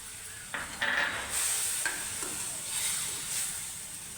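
Chakvat greens mixed with crushed peanut and gram flour, stirred in a hot pan: a steady close sizzle with scraping strokes of the spoon and a few light clinks.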